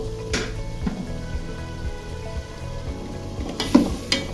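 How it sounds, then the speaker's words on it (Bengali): Broad beans and cauliflower sautéing in a pan give a steady close frying hiss, with occasional light clinks and scrapes of stirring, including a couple of sharper knocks near the end. "আগে সিম ফুলকপিটা একটু ভালোভাবে আমি কষিয়ে নিচ্ছি"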